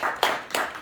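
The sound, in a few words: audience applause at a book concert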